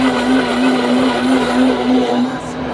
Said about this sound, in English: It's the Blendtec blender I have on my counter